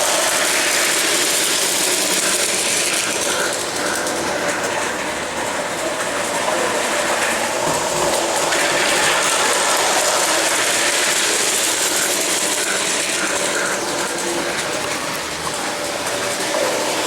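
A toy train set runs around beneath a Christmas tree among miniature houses and train stations, a steady, continuous mechanical whir and rattle sustained throughout.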